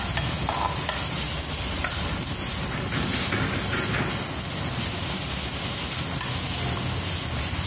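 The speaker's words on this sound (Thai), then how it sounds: "เนี่ยเราก็ผัดไปเรื่อยๆนะคะไม่ได้ใช้ไฟแรงนะคะใช้ไฟอ่อนๆ นะคะ" Minced pork and holy basil stir-fried in a pan over medium heat, a steady close sizzle and hiss with scraping and stirring noises running throughout without pause.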